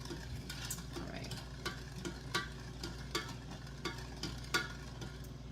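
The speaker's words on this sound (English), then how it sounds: "we're just going to keep mixing that up until the sugar dissolves" A spoon stirs a sugar solution in a pot while heating it toward a boil for rock candy, giving soft repeated scraping taps in a steady rhythm over a low background hum, close and moderately quiet.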